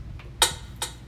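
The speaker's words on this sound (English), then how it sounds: "Take off the metronome." Metronome clicks from a Korg PA1000 arranger keyboard, two sharp ticks and a fainter earlier one, evenly spaced over quiet background hiss.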